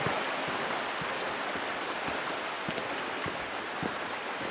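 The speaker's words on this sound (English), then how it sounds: "Good to hear some water flowing this morning." A small stream on the Tiger Mountain trail, near a footbridge, rushes and gurgles in a steady, even wash of water with no voices.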